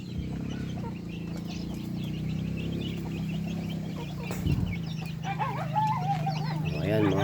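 Heavy Shamo Parawakan breeding hens cluck and murmur in a farm enclosure, a steady barnyard hum with sharper clucks and calls rising toward the end.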